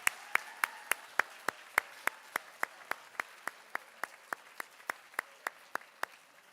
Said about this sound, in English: a large round of applause for your parents and all they do for you